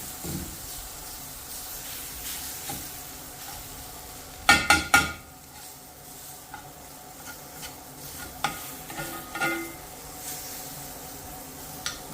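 Granola being stirred as it dries out in a skillet, a steady soft sizzle under scraping spoon strokes, with a few sharper clattering scrapes around the middle and no talking.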